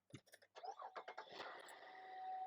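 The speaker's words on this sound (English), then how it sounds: "We pressure washed an engine bay and it cranked right up" A car engine cranks in a quick rhythmic series of churning pulses after its engine bay was pressure washed, then catches and settles into a steady idle, heard close up.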